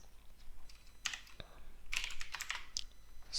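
Quick bursts of keystrokes on a computer keyboard while an Excel formula is being typed, irregular clicks close by with a faint voice underneath.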